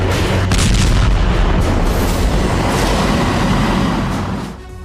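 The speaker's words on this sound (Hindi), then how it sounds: "मस्टा बी होविट्जर से रूसी गोलीबारी हुई है।" A Russian Msta-B howitzer fires with a loud, heavy boom that rolls on as a sustained roar before fading at the end.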